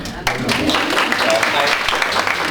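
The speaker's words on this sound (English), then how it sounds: "I think that deserves a round of applause as well." An audience at a talk applauds, a dense wash of clapping that starts abruptly and holds steady for a couple of seconds, fairly close and loud.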